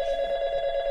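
A phone ringing with a steady, loud electronic tone that holds for the whole second, with no talking over it.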